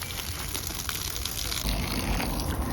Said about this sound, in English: Also, don't forget to water your compost.